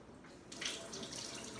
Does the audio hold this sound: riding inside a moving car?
no